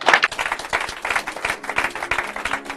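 A church congregation claps in sustained, dense applause, many hands close and fairly loud with no talk over it.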